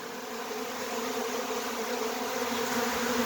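A honeybee swarm settling around its seated queen, bees fanning with raised abdomens, makes a dense, steady, close buzz with a low droning hum that never breaks.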